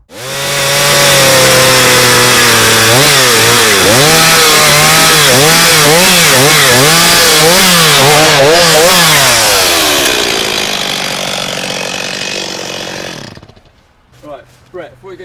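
A chainsaw cuts through a tree during a felling training session outdoors. It runs loud and close with a rising and falling engine pitch, then winds down before falling quiet, and faint voices follow.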